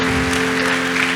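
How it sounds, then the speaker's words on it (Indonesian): Dense, loud applause from a church congregation at a youth worship service, a continuous close wash of clapping with a steady hum running underneath. "Boleh sekarang kita tepuk tangan yang paling meriah buat Tuhan."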